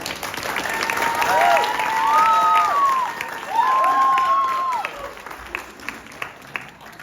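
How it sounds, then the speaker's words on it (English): Audience applause for Magnifico at a staged Cinderella performance, steady clapping with cheers and whoops over it, sustained and fairly loud before thinning toward scattered claps at the end. "A round of applause for Magnifico"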